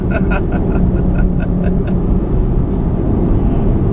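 A 2015 VW Golf R with a dual-clutch gearbox, heard from inside the cabin while driving fast: a loud, steady engine and road drone with a rising tone early on.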